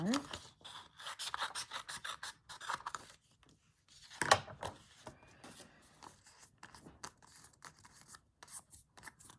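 Scissors rough-cut paper pieces in a series of quick, crisp snips and rustles at close range, pausing briefly midway and then resuming.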